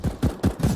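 Rapid shots from a CZ pistol in the video game CS:GO crack out in a quick string of four evenly spaced, punchy bursts within less than a second.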